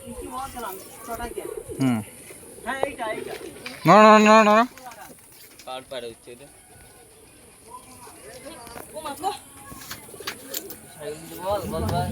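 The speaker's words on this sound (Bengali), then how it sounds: "এই পায়রাটা এসছে পায়রাটা এসছে" Pigeons coo in short throaty bursts, one loud close call standing out, while people talk on and off nearby.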